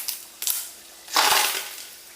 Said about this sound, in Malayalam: 2 ബേ ലീഫ് ഇത് മുറിച്ചിടുകയാണ്.